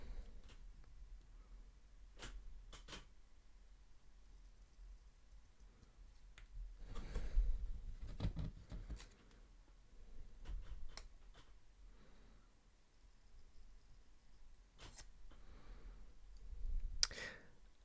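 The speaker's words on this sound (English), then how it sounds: "Right now, I just need them to be cut out." Scissors snip through paper while cutting out hobby banners, giving soft, irregular clicks and short rustles close by, quiet overall with a few louder cuts and no talk.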